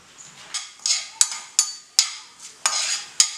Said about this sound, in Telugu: ఆయిల్ కొద్దిగా వేడెక్కగానే నేను ఇందులో ఆవాలు, జీలకర్ర, ఇంకా మినపప్పు వేసేసుకుంటున్నాను